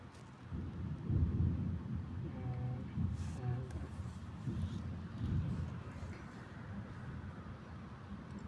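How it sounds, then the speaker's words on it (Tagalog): Heavy summer rain with rolling thunder in Hong Kong, low rumbles swelling and fading over a constant hiss of rainfall, with faint distant voices or tones in the background. "Grabing ulan."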